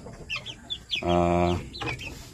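Japanese Shamo hens cluck in short bursts close by, and one bird lets out a longer, drawn-out call in the middle.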